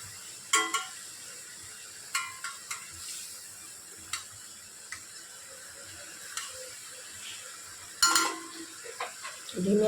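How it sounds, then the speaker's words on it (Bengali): Pabda fish curry in oil and chili sauce simmers in a pan with a soft, steady sizzle, broken by a few sharp clinks of a utensil against the pan. "মাছগুলোকে এবার একটু ফুটতে দেব,"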